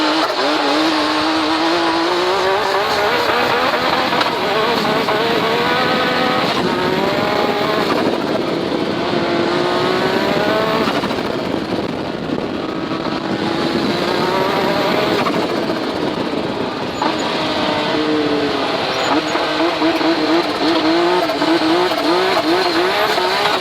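A small car driving fast along a dusty mountain dirt road, its engine loud and close with rising and falling revs as it shifts, and tire and gravel noise underneath throughout.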